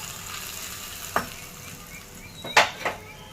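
Tadka tempering hits hot oil for a peanut chutney, giving a steady close sizzle broken by a few sharp crackling pops.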